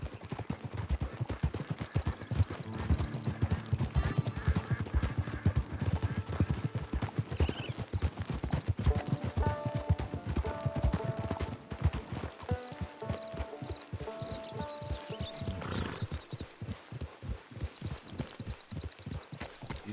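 Horse hooves clip-clop steadily in the video game Red Dead Online, a continuous rhythmic trotting beat close by, with a musical score underneath.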